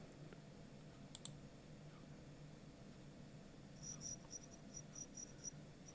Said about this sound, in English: I still hear crickets.